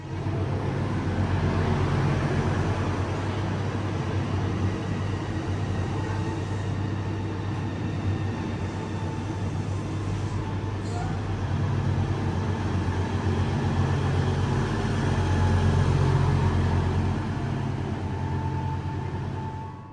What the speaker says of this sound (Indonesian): Dan ini udah mau masuk kereta feeder lagi, teman-teman. Dari arah Bandung ke arah Padalarang.